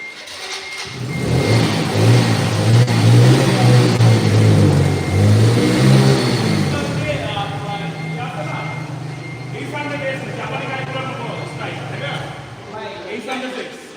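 Several motorbikes rev up near a bike fair lot, with a loud rising engine roar that peaks and then settles into a steadier drone as someone talks over it.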